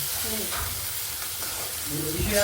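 Onion-garlic masala paste frying in a pan at home for a black-masala amti, sizzling and hissing steadily while being stirred, with a faint voice audible underneath.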